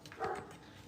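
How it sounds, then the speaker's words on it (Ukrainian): A household dog barks once or twice in the background, faint and somewhat distant, with kitchen room noise around it while food is being prepared. "Собака наша щось гавкає."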